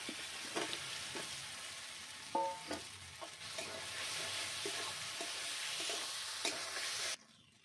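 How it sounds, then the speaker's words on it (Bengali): Spice masala cooked down with fried potatoes in a pan, a soft steady sizzle with repeated spoon scrapes and taps throughout, then a sudden cut to near silence at the end. "দিয়ে আমি ভালো করে মশলাটা কষিয়ে নেব। দিয়ে দেবো ভেজে রাখা আলুগুলো"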